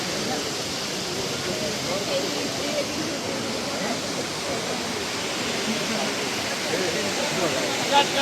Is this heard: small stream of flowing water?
yes